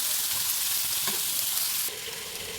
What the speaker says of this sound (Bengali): তো এটাও একটু নেড়ে ছেড়ে ভাজা ভাজা করে নেব।